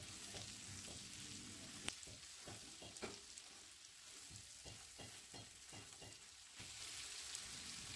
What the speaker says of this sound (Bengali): এবার ওই সব মশলাকে খুব ভালোভাবে কষিয়ে নিচ্ছি